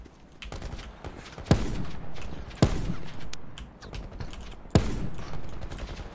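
Video game gunfire laying down covering fire during a squad match, three sharp, loud single shots spaced about a second apart over a steady rumbling game background.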